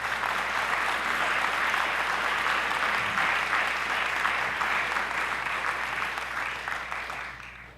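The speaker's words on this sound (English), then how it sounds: "I think another round of applause for you." Steady, full audience applause for a graduating class at a 2024 graduation ceremony, sustained dense clapping that holds for several seconds before starting to taper off near the end.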